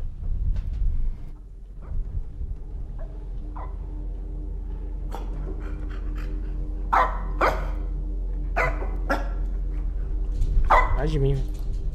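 Over a low steady hum during the horror game Supernatural, a man imitates a dog with a scattered series of short barks and yips spread across several seconds, alone and fairly close.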